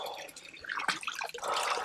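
Cold water splashes and drips irregularly during eye rinsing after pepper spray, close and uneven, with bursts of running water and no talk.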